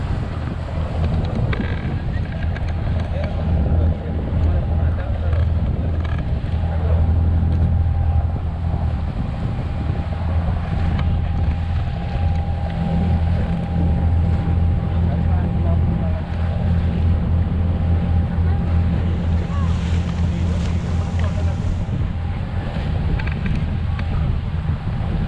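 Small passenger ferry crossing the sea in Dubai, a steady low engine rumble with wind buffeting the microphone and water washing past, continuous and close, with people talking faintly at times.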